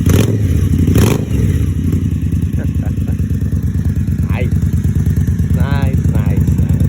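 An Indian Scout Sixty motorcycle fitted with a Vance and Hines exhaust idles with a loud, steady throb and gets revved, close to the microphone, with a brief thump at the start.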